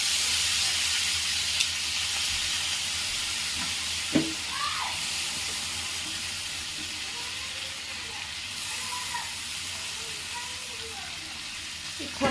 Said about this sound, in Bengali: এবারে দিয়ে দেবো আদা রসুন কাঁচা লঙ্কা বাটা। এবারে দিয়ে দেবো সেদ্ধ করা টমেটো।